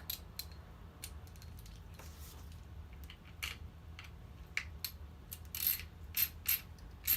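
A 4mm tool tightens the kingpin nuts on a Bont Athena quad skate plate, making faint ratcheting clicks and small metallic ticks, with a few sharper clicks near the end. The workbench is close and quiet, with no talk.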